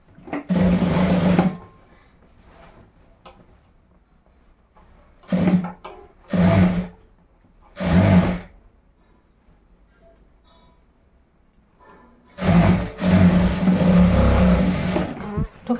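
A sewing machine stitches a half-inch seam on boys' shorts, running in several loud, close bursts of rapid needle clatter separated by quiet pauses, with the longest runs at the start and end.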